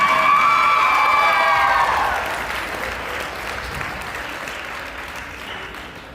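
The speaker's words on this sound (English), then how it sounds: "Paisley Wilson, give her a applause." A gym crowd applauds at a high school senior basketball night, loud clapping with some cheering that swells at first and then fades to a lighter, thinning patter.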